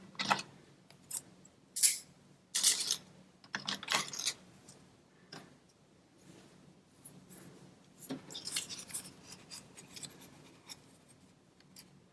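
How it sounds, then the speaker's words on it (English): Scissors snip a string into two pieces for a homemade mask, with quiet, close, separate cuts and rustles spread over several seconds. "we're going to cut this into two even spots"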